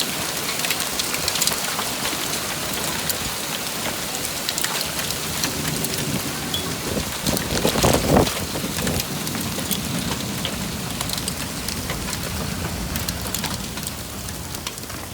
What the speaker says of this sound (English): During this severe weather storm,